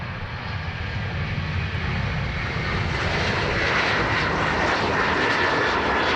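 A Ryanair jet roars at Dublin Airport, a loud, continuous broadband engine rumble with no breaks, heard from fairly close for the whole stretch.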